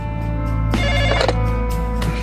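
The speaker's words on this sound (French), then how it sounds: "Mon téléphone a sonné vers 1 ou 2 heures du matin." A telephone rings in the middle of the night with a steady electronic tone that swells into a louder double burst, heard alone and close.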